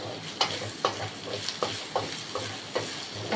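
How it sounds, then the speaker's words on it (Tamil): Chettinad chicken gravy ingredients sautéed and stirred in a pan over a low flame, with a soft steady sizzle and a spatula scraping the pan about every half second, close up and without talk. "இதையும் நல்லா போட்டு அதோட வதக்கணும்"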